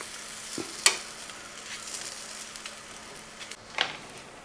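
Food frying in ghee on a pan as it is turned over, a soft steady sizzle with a couple of sharp clinks and scrapes of a utensil, no talk.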